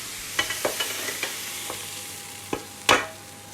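Grilled vegetables go into a frying pan with a handful of sharp clattering stirs and brief sizzling bursts, fairly faint and close, the last one louder, with no voices.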